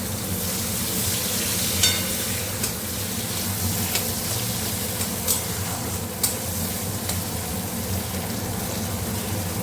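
Sliced onion sizzles steadily in fish oil in a home kitchen pan, with occasional sharp clinks of stirring over the continuous frying hiss.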